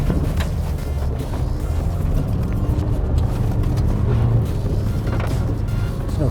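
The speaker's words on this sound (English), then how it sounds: "that's a lap of the V-Cross around our Gymkhana" An Isuzu D-Max V-Cross pickup runs a lap of an off-road gymkhana, its engine giving a steady, close, continuous rumble with rough, rattling texture throughout.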